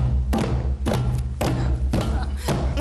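A hand drum (heartbeat frame drum) struck forcefully, five or six loud, deep thuds at a steady, unhurried beat, close and booming with short resonant decays.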